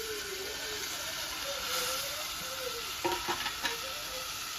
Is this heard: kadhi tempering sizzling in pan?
yes